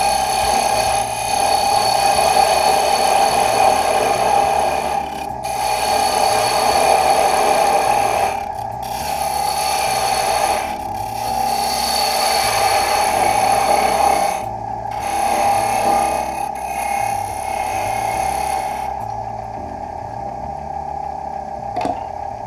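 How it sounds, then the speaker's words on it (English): Sandpaper rubbing against a small wooden spinning top turning on a woodturning lathe, with a steady motor hum and continuous loud friction that briefly pauses several times; no talking. "From now on, I'm just going to be sanding"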